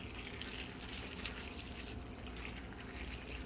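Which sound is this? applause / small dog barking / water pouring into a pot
water pouring into a pot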